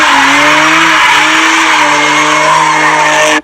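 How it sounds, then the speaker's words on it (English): Supercharged V6 Audi S4 launching hard, with loud sustained tire squeal and a rising supercharger whine over the engine note, close and continuous for several seconds. "this is actually an S4 because I can hear the supercharger whine"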